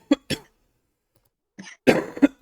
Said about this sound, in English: you started coughing